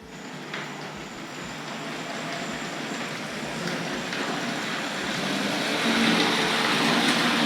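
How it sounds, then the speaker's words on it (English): Hornby model parcels train rolling along a layout track, a quiet mechanical rumble with faint rhythmic clicks that grows gradually louder as it pulls away from the station. "So let's pull the parcels train out of the station."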